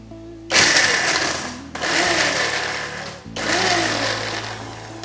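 A kitchen mixer grinder crushes a piece of ginger and about ten garlic cloves for erachi choru, running loud in three bursts of whirring, grinding noise separated by brief pauses.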